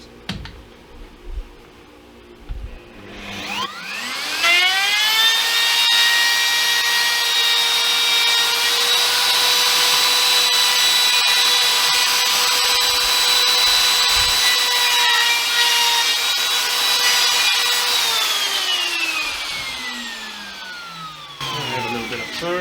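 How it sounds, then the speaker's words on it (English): A power tool sands wood on a homemade guitar template. The motor whines up to a steady, loud, humming pitch, holds for about fifteen seconds, then winds down. "I think I might have to sand that bump there a little bit."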